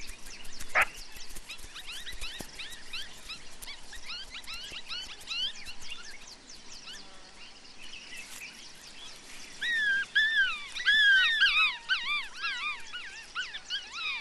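Hungry wild dog pups on the savanna whimper and yip in a rapid run of high, thin cries, close and moderately loud, growing more intense toward the end.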